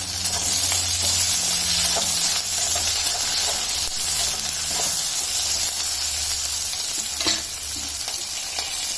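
Green chilli and curry leaves fry in hot oil in a pan, a steady loud sizzle and hiss close by with occasional stirring scrapes and crackles throughout.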